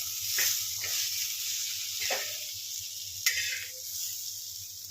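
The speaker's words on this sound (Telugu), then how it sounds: "పెనంపై అన్ని వైపులా చదిపుకుంటూ ఫ్రై చేసుకోవాలి" Stuffed okra (bhindi) frying in a pan gives a steady close sizzle, with a few brief stirring or scraping clicks and a low hum running underneath.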